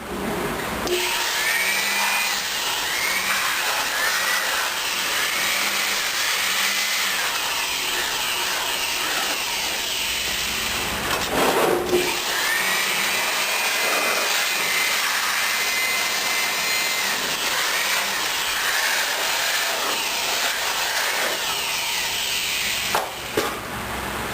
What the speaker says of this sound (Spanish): Ahora vamos a eliminar la mayor cantidad de polvo con la sopladora